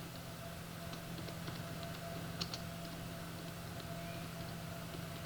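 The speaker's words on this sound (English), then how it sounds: "I am typing this, you can type whatever you want." Someone types on a computer keyboard while writing HTML for a table, a steady patter of soft key clicks over a low hum, fairly close, with no speech.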